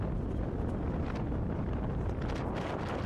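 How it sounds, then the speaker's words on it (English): Strong wind on an island roars continuously and loudly across the microphone, a steady dense rumble with no pauses. "That's radically windy."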